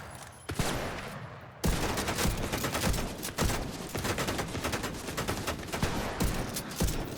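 Sustained gunfire aimed at the player in a video game: a sharp opening shot, then dense rapid bursts with strong recurring cracks, loud and close throughout.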